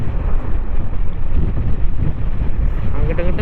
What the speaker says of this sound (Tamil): காற்று வேறு சரியான காற்றாக இருக்குங்க, சுத்தர வண்டி ஓட்டவே முடியல